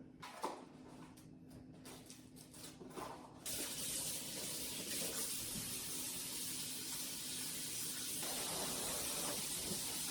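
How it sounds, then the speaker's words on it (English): Headless shrimp, huge New Zealand green shell mussels and squid rinsed under a running tap in a sink, a steady broad water rush that starts softly with small knocks and grows louder and constant after a few seconds. "I'm just gonna wash the seafood"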